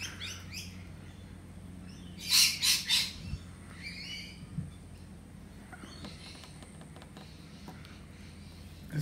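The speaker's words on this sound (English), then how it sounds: "There's birds everywhere today. They're all talking to each other." Several wild birds call outdoors, including a kookaburra, magpie and butcherbird, with a loud burst of squawking chatter in the middle and scattered chirps and tweets before and after, no talking.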